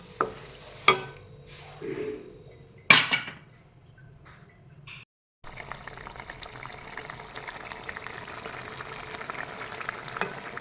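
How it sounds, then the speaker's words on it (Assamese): A few clanks of a pan, then a brief pause, then a steady bubbling simmer of climbing perch fish curry with fried eggplant and tomato boiling, close and continuous. "এতিয়া পককৈ এয়া উতলিব ধৰিছে"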